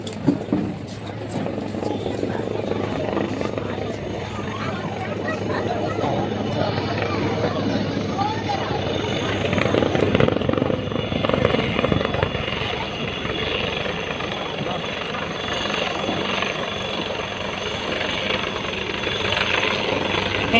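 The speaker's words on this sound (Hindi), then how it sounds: "हेलीकॉप्टर" A helicopter thrums with a steady rotor chop at a Republic Day celebration in the Andaman Islands, loud and continuous under people talking throughout, swelling briefly midway.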